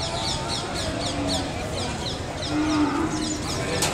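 An Ongole breed calf moos at a cattle market in Kodada, a low drawn-out call rising midway, over a busy background with faint voices and some bird chirps.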